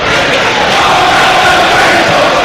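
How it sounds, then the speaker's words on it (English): A football crowd at Home Park in Plymouth applauding the player Edwards during Luton Town vs Plymouth: a continuous, loud, dense wash of crowd noise holding steady throughout. "there's the applause for Edwards"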